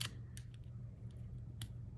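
Scissors snip through paper or ribbon at a scrapbooking table, giving a few short, crisp cuts spaced about a second apart over a low steady room hum.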